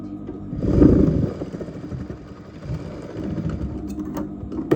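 Sewing machine stitching the slant pocket of a pair of trousers, a steady mechanical whir that swells loud for a moment, eases off, then runs on in quicker bursts close to the mic.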